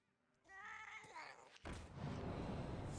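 The Pharaoh Cat card in the video game Hearthstone gives a short synthetic meow followed by a louder burst of game effects, with no talking.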